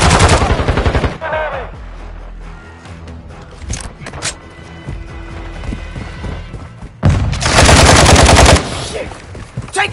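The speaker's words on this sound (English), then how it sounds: "Taking effective fire!" Loud automatic gunfire in the video game Call of Duty Modern Warfare 2 multiplayer, with heavy close bursts opening and closing the clip and scattered shots and impacts in between.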